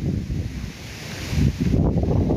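Steady wind buffets the microphone in an autumn forest in Holland, a low, rumbling roar that swells and gusts throughout.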